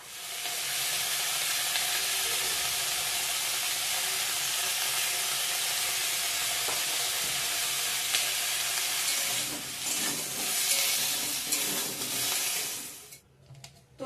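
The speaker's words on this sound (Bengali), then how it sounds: "তো ফুলকপি আলু ভেজে নামিয়ে রাখছি" Cauliflower florets and potato pieces fry in hot oil in a pan for a rohu fish curry, giving a loud, continuous close-up sizzle that holds steady and then tapers off near the end.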